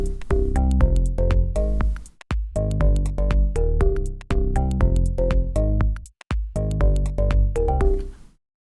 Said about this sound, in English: looking for like similar but different deep house basses